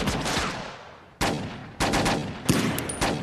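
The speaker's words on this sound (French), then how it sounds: "je crois que c'est des flics sur qui on tire" Gunfire aimed at police officers in a film scene, heard as several sharp, loud broadband bursts, one prolonged decaying volley followed by shorter cracks at irregular intervals.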